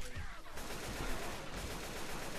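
Gunfire in the zombie shooter video game Left 4 Dead 2, a dense run of loud rapid shots that goes on steadily for the whole stretch, with no voices over it.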